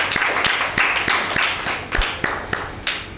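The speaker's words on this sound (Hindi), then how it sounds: "इंसा के लिए ज़ोरदार तालियां" A group claps briefly for a child who answered a question correctly on a children's show, a loose run of sharp hand claps close by and moderately loud.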